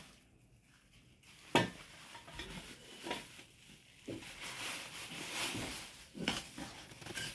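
A new metal rice-cooking pot being handled in a home kitchen, with scattered clanks, taps and scraping knocks at irregular intervals, close and moderately loud over a faint background.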